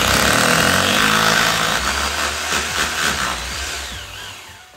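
A power drill running to fix a bike hook with a stainless steel screw, a loud close continuous whir that shifts pitch under load and eases off toward the end.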